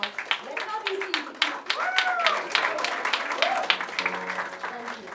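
Applause from an audience at the ITCH summit 2019, broken clapping with scattered crowd voices and a tonal voice-like line drifting through, fairly steady for five seconds.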